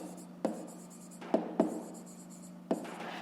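A pen scratches on paper while working through a fifth-grade math exercise, with soft, quiet strokes broken by a few sharp taps against the page.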